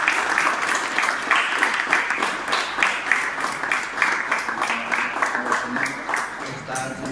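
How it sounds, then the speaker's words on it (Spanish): Audience applause for artists at an LGBTI multicultural association launch event in Mallorca, steady moderate clapping from a crowd lasting several seconds, with some voices underneath. "Hay un aplauso para ellos, al señor Navarro, por favor."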